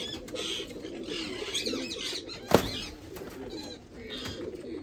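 Pigeons coo softly and repeatedly up close, with a quick sharp flutter or click partway through.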